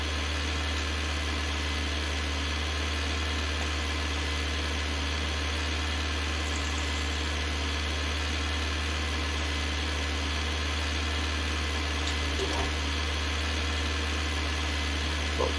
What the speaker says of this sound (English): The tractor also is scratching a little bit here.